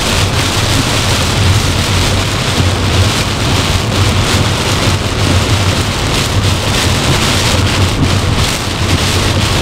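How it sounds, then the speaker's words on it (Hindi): Heavy rain hammers down while driving at night on the road toward Ujjain, a loud, unbroken wash of drumming water and low road rumble with no speech. "बारिश इतनी शानदार पड़ रही है कि रोड पर कुछ दिख नहीं रहा है"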